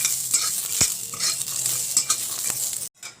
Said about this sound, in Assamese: এতিয়া মই বাদামখিনি অলপ ভাজি লম